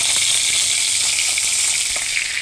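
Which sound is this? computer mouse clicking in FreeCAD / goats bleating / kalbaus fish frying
kalbaus fish frying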